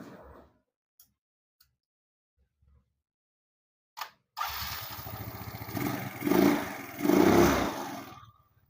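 A Yamaha Mio Soul scooter fitted with a Shogun CDI starts after a few clicks, catching at once into a close idle that swells with two short revs.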